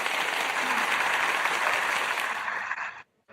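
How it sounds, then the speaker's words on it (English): An audience applauds for a debater taking the stage at a live debate event, a dense sustained wash of clapping that holds steady for about three seconds, then cuts off abruptly into silence. "Everybody give Jesse Valdez a round of applause."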